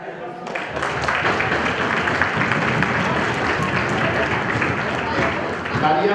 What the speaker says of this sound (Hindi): तालियां बजे, तालियां बजे